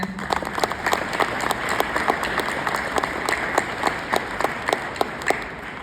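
A speech audience breaks into sustained applause, a dense wash of many hands clapping steadily throughout, crisp and fairly close, with no talking over it.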